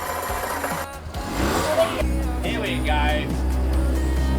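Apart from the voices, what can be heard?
catamaran engine being restarted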